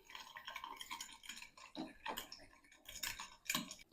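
A spoon stirs a minced meat mixture seasoned with salt, pepper and a little milk in a bowl, making soft, quiet, repeated clinks and wet scraping against the dish.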